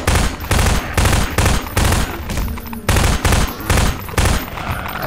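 Gunfire in Half-Life 2 shoots at head crabs, with loud, close bursts of rapid shots in a regular stop-start rhythm of about eight bursts.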